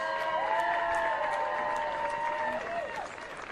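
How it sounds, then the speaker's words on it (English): Applause from a crowd for the Tennessee team at an 8U baseball World Series in Hattiesburg, steady and moderately distant, with tonal background sounds running through it. "let's give Tennessee another big round of applause"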